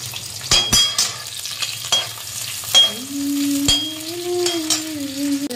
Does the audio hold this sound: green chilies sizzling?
yes